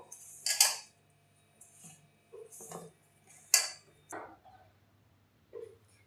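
A utensil scrapes and clinks in a bowl while wheat flour is mixed with oil for farsi puri, heard as a few separate short scraping strokes with quiet pauses between them.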